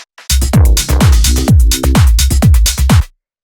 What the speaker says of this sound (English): Then we have this drum rack with a bunch of rim shots.